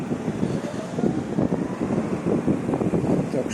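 Gusty autumn wind on a street in Yakutsk buffets the microphone with a steady low rushing roar that swells and eases in pulses, loud and close, with no voices.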